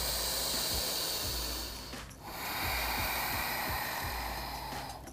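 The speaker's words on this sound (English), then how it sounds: "You're still taking those 5 deep breaths though." Slow, deep breathing during a yoga pigeon pose, long airy inhales and exhales rising and falling close to the microphone over a steady background hiss, with a brief pause midway.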